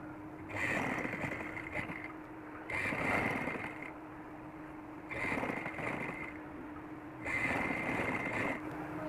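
A sewing machine runs in four bursts of steady whirring with short pauses between, stitching the sleeve corners of an umbrella-cut baby frock; the motor hum is close and moderately loud, with no talking.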